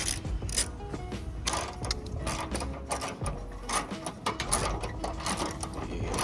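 A ratchet clicks rapidly and continuously up close as it is cranked during the fitting of 50mm wide-body fenders on a JZX100, with steady mechanical clatter throughout.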